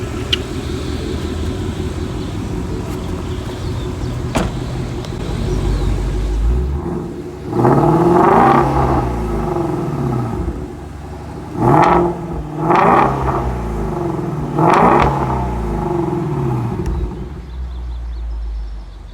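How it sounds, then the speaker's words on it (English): A flat-plane crank V8 engine idles with a low rumble at a car meet, then revs hard in three loud, rising bursts, settling back between each. "the way that this flat plain V8 crankshaft engine sounds. Let's take a listen."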